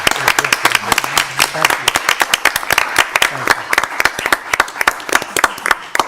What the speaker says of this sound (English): I think we should give a big round of applause to all of the organizations, all of the people.